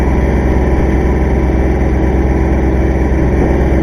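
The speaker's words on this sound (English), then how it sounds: "That's a 23 horsepower tractor." A small 23-horsepower tractor engine idles steadily at close range, a low, even chugging hum that holds constant throughout with no voices.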